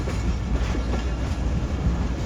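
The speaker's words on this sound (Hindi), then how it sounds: "प्लेटफॉर्म नंबर 3 पर अप्रोच बनाएगी ट्रेन हमारी" Passenger train rolling toward a platform at a station, steady rumble and clatter of railway cars moving at moderate volume throughout, without voices.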